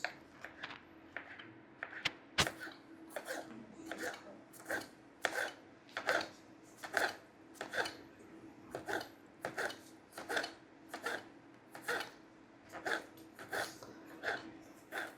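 A single clove of garlic being finely chopped with a knife on a board during a steak masterclass, giving a steady train of crisp, evenly spaced taps, close and fairly quiet, with no talking.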